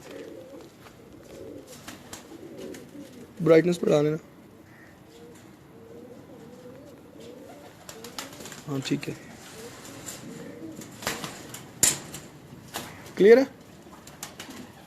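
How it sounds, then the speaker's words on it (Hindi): Show-class flying pigeons, one held in the hand, give a few short cooing bursts close by, spread out under steady conversation between people. "तो ये उनमें से एक कबूतर अभी मेरे हाथ में है"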